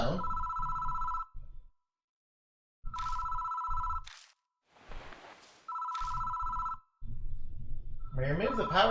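A phone rings in Spirit Hunter: NG, three loud, near electronic trilling bursts separated by short silences, with brief noisy clatter between them and a voice cutting in at the end.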